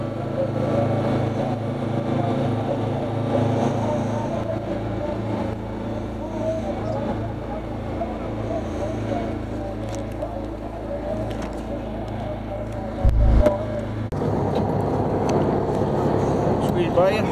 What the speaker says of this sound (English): There's our boat right there.